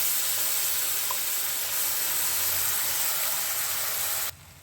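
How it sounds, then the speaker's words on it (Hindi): Steady, loud sizzling of ground onion paste frying in a hot pan, a continuous hiss that cuts off abruptly near the end. "प्याज को हम हल्का गोल्डन ब्राउन कलर होने तक फ्राई करेंगे।"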